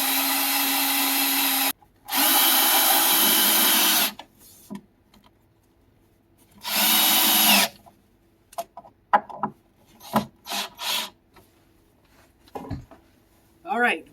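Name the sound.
power drill drilling a hole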